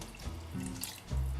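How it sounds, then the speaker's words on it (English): Water poured from a cup into a soup pot for a spicy peanut and eggplant soup, a soft splashing pour in a kitchen that swells louder toward the end. "then I'm gonna add a cup of water"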